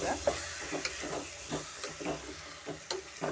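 Soaked raw rice is stirred into oil in a pan for coconut ghee rice. Repeated soft scraping strokes fall in an even rhythm over a faint, quiet sizzle.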